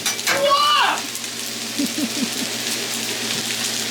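A stir-fry on a Blackstone griddle gives a steady, broad hiss of frying throughout. A short whistling sweep comes early, with a faint voice in the background.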